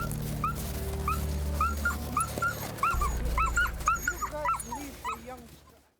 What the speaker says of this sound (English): We had a little dog fight, and he got a puncture wound.